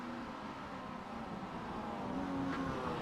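Mazda MX-5 Miata race cars in an iRacing sim race brake hard into a turn, their engine drones shifting pitch and rising slightly toward the end, with no voices.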